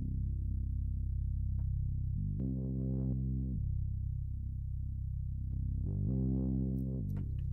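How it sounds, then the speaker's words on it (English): Deep cinematic synth bass patch played solo with legato slides, sustained low notes gliding between pitches in long held phrases, loud and close with no talking. "this one is called Big Bam's Cinematic Bass"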